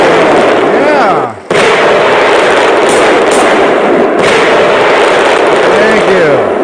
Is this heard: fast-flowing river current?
no